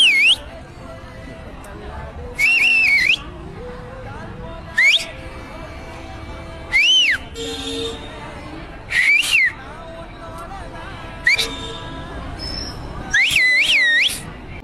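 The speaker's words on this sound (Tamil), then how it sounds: "கை வைக்காம விசில் அடிப்பேன்." A person whistles without using their hands, sounding a series of short, shrill rising-and-falling bursts spaced a second or two apart over a background of chatter and crowd noise.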